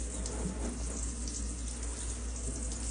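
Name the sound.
water rinsing an incubator part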